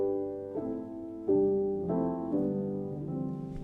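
Upright acoustic piano played with the practice pedal down, giving soft, muffled, poorly defined notes in a slow sequence of chord changes at a low, quiet level.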